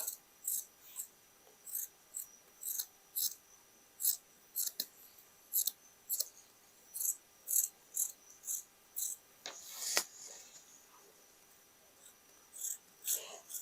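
Scissors snipping through the thick belt of a denim skirt, a long run of sharp, regular close-up cuts with a brief rustle of fabric midway, no voices.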